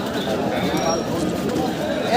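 Pigeons coo at a busy pigeon market in Mede, North 24 Parganas, their soft calls sitting under steady crowd chatter and nearby talk throughout.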